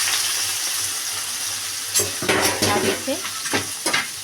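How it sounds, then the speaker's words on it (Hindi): Potatoes and jackfruit fry in hot oil with bay leaf and green chillies, a steady close sizzle, joined halfway through by scraping spoon strokes as the pan is stirred. A brief voice speaks. "धीरे धीरे चलाएंगे और तब तक भूनेंगे जब तक ये पूरे लाल ना हो जाए।"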